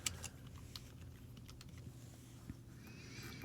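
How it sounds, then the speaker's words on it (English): Quick, light clicks of typing on a computer keyboard, faint and close, in an irregular patter lasting a few seconds with no talk over it. "Hold on, I'm typing something."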